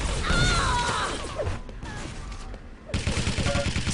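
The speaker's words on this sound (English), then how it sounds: "Spamming those rockets in, pretty standard kind of thing to do." Rocket launcher fire rings out in a Quake-style arena shooter match, a rapid burst of loud blasts and impacts up close, dipping for a moment, then resuming with repeated thumping shots.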